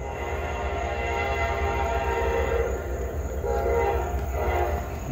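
A Norfolk Southern freight train led by locomotive NS 4567 rumbles past along the Pitt Sub in Latrobe, Pennsylvania, a loud, steady roar of rolling wagons with a sustained horn tone carrying throughout.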